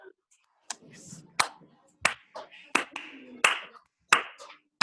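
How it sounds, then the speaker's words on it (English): Hands clap sharply six or seven times at irregular intervals during a French lesson, with spoken words between the claps, all close and clear. "Applaudissez, c'est-à-dire clap your hands."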